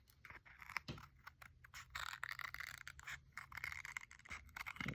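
Scissors cut around paper collage pieces, giving close, quiet crisp snips and scraping paper rustle in an irregular rhythm.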